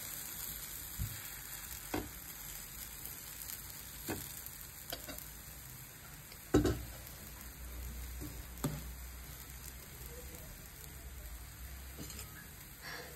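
Dough batter for chapathi-style pindi attu fries in oil on a pan, giving a steady, close sizzle with a few sharper pops and stirring clicks scattered throughout.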